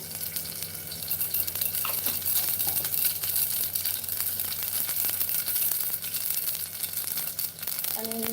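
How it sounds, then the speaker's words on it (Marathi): Garlic cloves and mustard seeds sizzle in hot oil in a pan, a dense, even crackle that runs unbroken at close range with a few brief stirring rustles. "या पहा, या लसणाच्या पाकळ्या मी यात टाकते. आणि त्यानंतर टाकणार आहे मी ही मोहरी."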